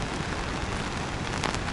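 Heavy rain pours during a storm in Alanya, Turkey, a dense, steady hiss of drops on wet asphalt, loud and continuous with no voices.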